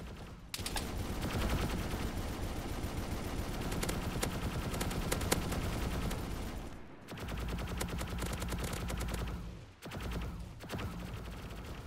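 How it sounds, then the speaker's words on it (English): Sustained gunfire in the survival video game DayZ on a PVE server, a loud continuous barrage of rapid shots running for about six seconds, then two shorter bursts separated by brief pauses. "why are you shooting at me?"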